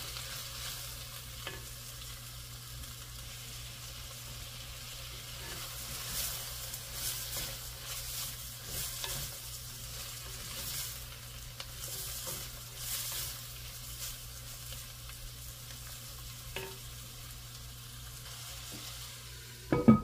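Beetroot and other biryani ingredients fry in a pan, a soft continuous sizzle with intermittent stirring scrapes and light clinks, quiet and steady throughout.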